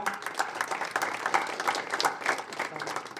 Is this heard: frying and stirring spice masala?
no